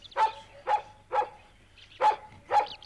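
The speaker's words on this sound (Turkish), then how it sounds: "Köpek değil efendim, tazı bu tazı." A sighthound barks five times in short, sharp bursts at fairly even intervals, with a brief pause between the third and fourth bark; the barks are close and loud.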